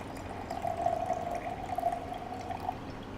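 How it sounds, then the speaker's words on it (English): Water poured out of a tray after lightly rinsing a protein gel plate in a lab: a thin, steady trickling stream running for about three seconds, fairly quiet against faint background noise. "and then I will pour out the water"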